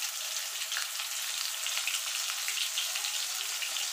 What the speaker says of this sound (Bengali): দিয়ে আলুটাকে আমি লাল লাল করে ভেজে নেব।